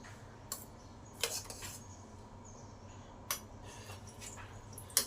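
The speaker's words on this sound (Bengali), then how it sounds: "এবারে কৌটোটা এর থেকে বার করে নিই" A metal container lifted out of a pressure cooker after cooking rice and dal, with a few sharp clinks and clatters of metal against metal, spaced out over a steady low background hum.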